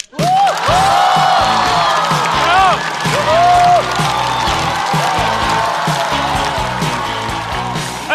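A stand-up comedy audience bursts into loud applause and cheering with whoops as a comedian is welcomed to the stage, while a host's amplified voice carries over the crowd.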